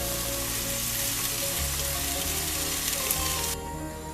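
Minced meat with tomato sauce sizzles steadily in a frying pan, a continuous loud hiss close by with occasional stirring scrapes.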